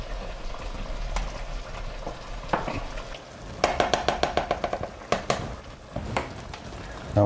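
Food frying on high heat in a hot pan with chicken stock gives a steady sizzle, broken by bursts of sharp pops and crackles and a few utensil clatters.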